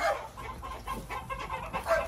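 Newly hatched purebred White Kelso chicks peeping and cheeping close by, a busy overlapping chatter of small high calls that continues throughout, with no talking.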